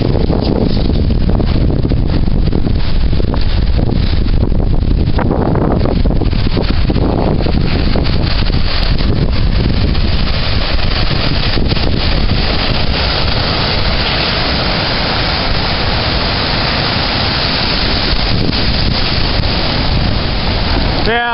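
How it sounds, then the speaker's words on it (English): Winter storm on the seacoast at Magnolia, Massachusetts: a loud, continuous roar of heavy surf and storm surge with strong wind buffeting the microphone throughout, no break in the noise. "we had a winter storm and it's really set in"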